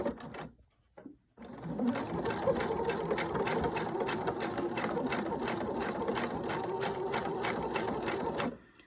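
Sewing machine stitching fabric forward and then in reverse to tack down pleats and secure elastic, a steady close rapid needle rattle running continuously for several seconds after a brief start.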